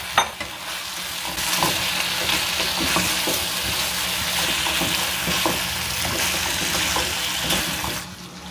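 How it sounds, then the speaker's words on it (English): Beef added back into a hot pan sizzles and fries loudly and steadily, with scraping stirs and shakes in the pan, close up and with no talking. "Then you add your beef back in."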